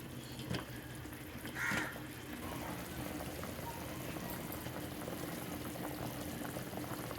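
A pot of food with oil and salt boiling on the stove gives off a steady, continuous bubbling hiss at moderate volume, with a few faint clinks early on.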